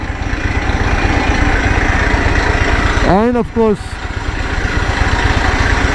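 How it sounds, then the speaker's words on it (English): Harley-Davidson Pan America motorcycle engine idling steadily in hot sun, a continuous low rumble throughout, with someone talking briefly over it partway through. "engine running and going nowhere"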